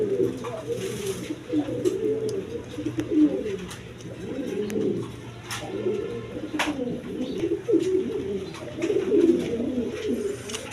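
A big-sized pair of red Danish pigeons coo at a pigeon sale, with repeated low, rolling coos in a steady rhythm, close and moderately loud, punctuated by occasional clicks and wing flutters.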